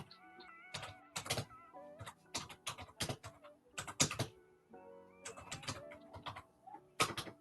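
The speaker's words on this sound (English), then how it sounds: "Over there, assaulting the keyboard." Loud, fast typing clatters on a computer keyboard in irregular bursts of sharp key strikes, close and dry, with brief pauses between flurries and no talking.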